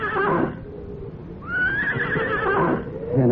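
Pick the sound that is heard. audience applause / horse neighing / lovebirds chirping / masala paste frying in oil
horse neighing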